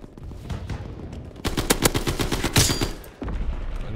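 Call of Duty WW2 automatic gunfire during a hardpoint match comes in quick, loud bursts of close shots, with a brief pause before the firing picks up again.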